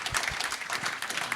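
A church congregation claps, a brief burst of dense, lively applause filling the room without speech.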